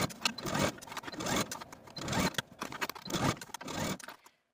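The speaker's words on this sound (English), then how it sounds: "now you can go to your machine and stitch the skirt to the bodice with a 5/8 inch seam allowance" A home sewing machine stitches a skirt to a dress bodice at a 5/8 inch seam, running in several rattling bursts separated by short pauses, close up, ending abruptly in silence.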